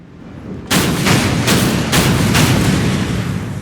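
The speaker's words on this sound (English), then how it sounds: "I love the sound of guns as much as anybody, but damn, we got to get that down a little bit." Warship guns firing at a Polish destroyer in the WWII naval strategy game Order of Battle: Kriegsmarine: a sudden loud blast opens a rapid run of heavy, booming shots, very close and overpowering, with no talking.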